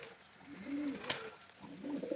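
A pigeon coos twice at close range, each soft, low, rolling call lasting under a second, with quiet ambient noise and a faint click in between.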